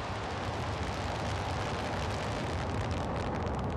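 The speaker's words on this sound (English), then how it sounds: "Turbo pumps now firing at flight speed and" Russian Progress cargo rocket lifting off toward the International Space Station, its turbo pumps at flight speed giving a steady, dense broadband roar that stays constant and fairly distant throughout, with no voices.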